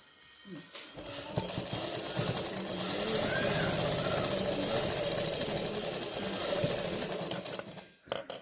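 A home sewing machine stitches a child's frock, running in a steady, fast, rattling hum for several seconds at close range before stopping near the end, with a voice faintly present in the background.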